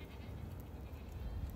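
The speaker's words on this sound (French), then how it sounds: "Écoutez les bruits d'animaux. Il y a les chèvres." Goats and sheep bleat faintly at a distance outdoors on a farm, their calls blended into a steady, noisy background without any talk.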